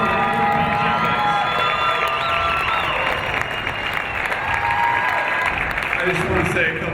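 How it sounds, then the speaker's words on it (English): A crowd at a Moorpark College versus Santa Barbara game applauds and cheers loudly and continuously, with shouts and whistles rising over steady clapping throughout. "ladies and gentlemen, we ask you to clap and cheer for Steve Burkhardt"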